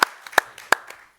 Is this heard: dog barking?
no